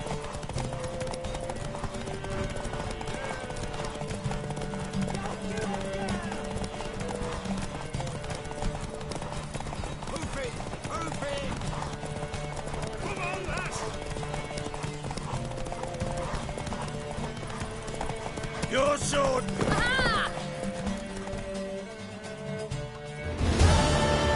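Rhythmic hoofbeats of a trotting horse clop steadily beneath game music in The Witcher, with a loud whinny breaking through near the end.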